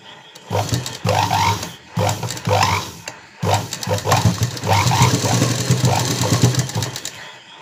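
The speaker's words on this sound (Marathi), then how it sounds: "आपण दोन्ही साईडला इथं पाठीमागून टिप मारणार" A sewing machine stitches a blouse in several whirring bursts with brief stops between, close and fairly loud, the run growing longer toward the end.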